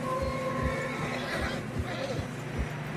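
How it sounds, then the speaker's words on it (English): Horses neigh and whinny while struggling through deep fresh snow along a narrow trail in Red Dead Redemption 2, a loud close whinny over heavy hoof thuds, with talk mixed in. "Horses struggling."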